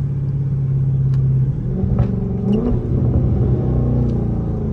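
Low, steady engine rumble from a Dodge Charger driving through city streets, a continuous close drone that swells slightly in the middle with a brief rev, alone with no voices.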